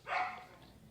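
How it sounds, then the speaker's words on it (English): A dog gives a single short bark close by, loud at first and then trailing off into quiet room noise. "If you dogs don't quit fucking barking"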